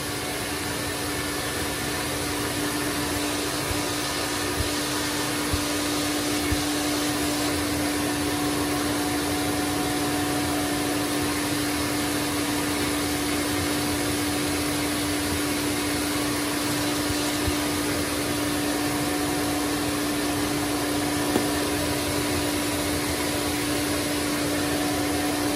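An Electrolux Z Series vacuum cleaner runs steadily with a constant, loud motor drone and airy suction hiss. It picks up fur, and no voice is heard.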